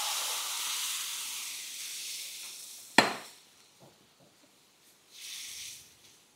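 Upma mixture hissing and steaming in a hot pan over a high flame, a steady sizzle that fades, then a sharp metallic knock, scattered scrapes and a brief renewed burst of hiss.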